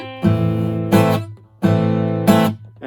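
Acoustic guitar strums the chorus rhythm of a song in short accented chord bursts, each muted quickly, a clear repeating pattern played alone up close.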